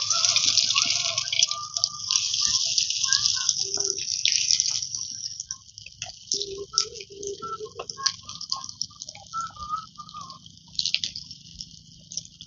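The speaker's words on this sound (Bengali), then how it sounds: "তেল গরম হয়ে গেছে, এবার চপগুলোকে হালকা ব্রাউন করে আমি ভেজে নেব।" Breaded Bengali chops fry in hot oil, giving a continuous bright sizzle with scattered pops and crackles, close and steady for the whole stretch.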